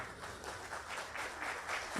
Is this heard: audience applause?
yes